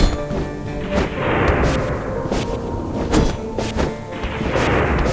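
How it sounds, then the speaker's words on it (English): A sword deflecting bullets in Katana Zero, a run of sharp gunshot cracks and metallic slashing impacts, several loud spaced hits over a rumbling game backdrop with no talk. "one of its key features: deflecting bullets with your sword"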